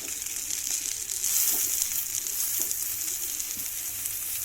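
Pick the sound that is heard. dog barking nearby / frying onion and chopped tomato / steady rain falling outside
frying onion and chopped tomato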